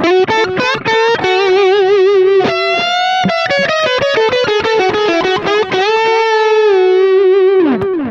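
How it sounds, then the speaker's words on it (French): An electric guitar on the neck pickup plays a loud, singing solo line with a tone from Universal Audio plugins, a distinct delay repeating each note with light ambience, closely recorded with no voices. "le temps de délai autour de 300 à peu près, histoire d'avoir quelque chose de bien détaché du son d'origine"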